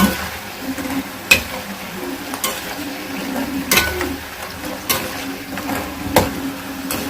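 Battered pieces fry crisply in hot oil, with a continuous crackling sizzle and several sharp clacks as a spoon strikes the pan, close and fairly loud, with no talking.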